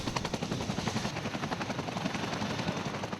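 A Sea King helicopter in iconic yellow colours flies overhead, its rotor blades thudding in a fast, steady chop with loud broadband engine roar, close and continuous with no voices.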